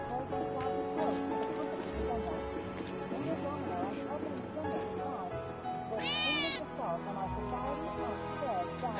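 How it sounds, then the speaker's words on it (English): A cat meows in the Final Fantasy VII Remake slums near Betty's home, with one clear rising meow standing out midway over a busy bed of game sound and talking voices. "Ah, that was definitely a cat."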